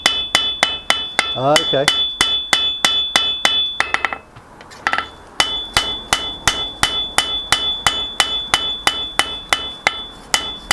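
Hand hammer on hot steel over an anvil while forging a medieval spearhead: rapid, evenly spaced ringing blows with a sharp metallic ping, briefly pausing and scraping midway before the steady hammering resumes, close and loud; one short spoken word.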